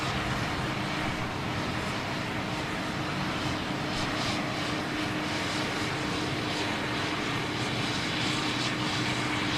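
A Boeing C-17 Globemaster military transport passes overhead, a loud, dense, continuous engine roar that fills the whole clip with steady intensity.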